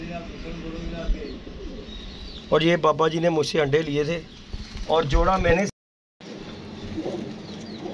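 Domestic pigeons kept by an elderly man coo softly in their loft, the low calls running underneath someone talking loudly close by, then fading briefly before resuming.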